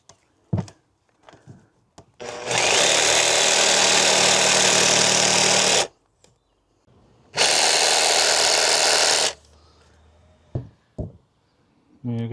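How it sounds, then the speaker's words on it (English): Power jigsaw cutting a groove in a carpeted camper van panel, two loud sustained bursts of buzzing cutting a few seconds each with a pause between, framed by knocks and handling clatter. "getting my jigsaw and putting a little, about a centimetre long groove here and here, and slide it over this hinge."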